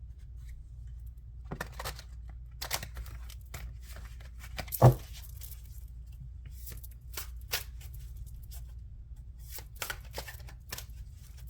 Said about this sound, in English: Actually having issues shuffling my cards today.